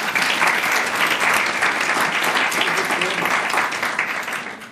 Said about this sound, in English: Please give yourselves an applause for coming out this evening.